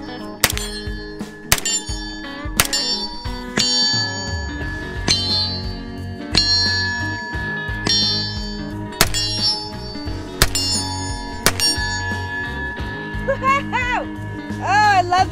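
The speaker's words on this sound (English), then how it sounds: "All right, let's let Liberty ring." A small Liberty Bell replica from AR-500 Armor rings out in a run of sharp metallic dings and clangs, struck repeatedly at an uneven pace, close and loud, with a few duller thunks between strikes.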